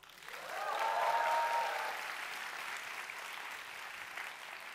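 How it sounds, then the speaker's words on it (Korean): Applause from a lecture audience at a corporate recruiting talk, a soft, distant wash of clapping that swells quickly and then holds steady, with a brief voice near the start. "이러면 박수 안 주나요?"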